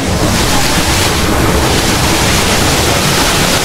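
Panigyan Falls waterfall roaring as a steady, dense wash of broadband noise that fills the scene without pause, loud and continuous with no voices.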